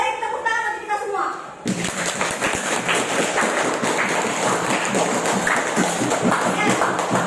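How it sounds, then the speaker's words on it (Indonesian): A classroom of students claps together after a teacher's brief speech, a dense, steady patter of many hands that continues at even loudness to the end. "tepuk tangan untuk kita semua"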